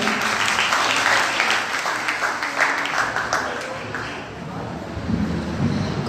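Applause from a college Defence Day audience, a dense, steady wash of clapping that lasts throughout, fairly loud and close with a slight dip before swelling again.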